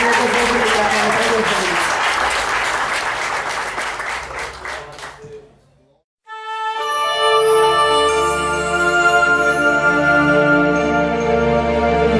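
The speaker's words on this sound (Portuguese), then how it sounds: "E as palmas louvam a Jesus mais uma vez." Church congregation clapping in praise of Jesus during a missionary's testimony service, loud dense clapping that fades to near silence around the middle, then gives way to sustained tonal music with bright jingling.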